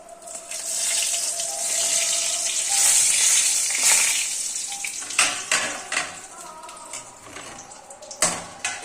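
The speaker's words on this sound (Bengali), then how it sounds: "এবার দুটো লঙ্কা দিচ্ছি, দুটো লঙ্কা দেব তেলে" Bay leaves and green chilies dropped into hot oil, a loud bright sizzle and crackle of frying, close up, settling into softer bubbling with a few utensil clinks and knocks.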